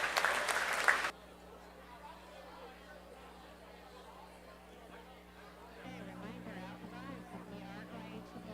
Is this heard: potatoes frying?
no